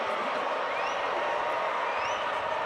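Steady crowd roar fills a fairly full Fifth Third Arena during a Cincinnati men's basketball game against Colorado, with broadband chatter and murmur continuing evenly throughout and no single standout cheer.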